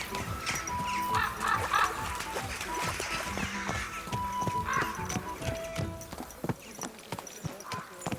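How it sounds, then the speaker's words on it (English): Horse hoofbeats in Kingdom Come: Deliverance II, a fast, rhythmic clatter close by, with a horse whinnying and in-game voices and other game sounds mixed in before the hooves fade slightly. "Don't you know how to ride a horse?"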